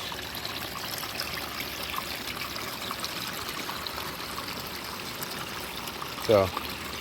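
Steady, gentle trickle of water running over rocks in a large garden water feature, a continuous soft splashing with a brief louder knock near the end.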